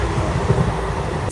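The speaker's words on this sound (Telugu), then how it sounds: "ఇది మన పక్కన grand trunk express Chennai Egmore to New Delhi train" Grand Trunk Express running alongside near Chennai Egmore, a steady close rumble of rail cars rolling past, continuous and loud for the whole moment with no voices.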